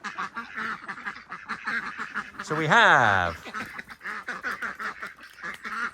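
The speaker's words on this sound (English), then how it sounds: "So that's the Indian runners, straight in the water, look." Indian Runner ducks at a small farm quack repeatedly while heading into water, with one long, loud nasal call standing out mid-clip amid a steady chorus, and someone talking over them.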